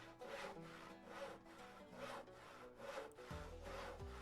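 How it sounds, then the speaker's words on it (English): Sawing wood while crafting a wooden shovel in the Cowboy Life Simulator video game: rhythmic back-and-forth rasping strokes, about five passes, ending in a low thud, with no talk. "Craft a wooden shovel."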